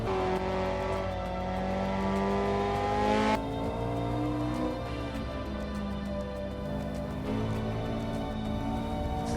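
A Honda DC2 Integra Type R's VTEC engine revs hard from inside the car, pitch climbing through the gears with two sharp shifts, loud and continuous.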